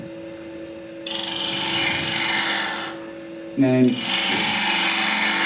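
Wood is hollowed on a small lathe, heard as a steady scraping and hissing cut that starts, stops briefly and resumes, with a short chattering burst in the pause, over the motor's constant hum and a brief spoken word.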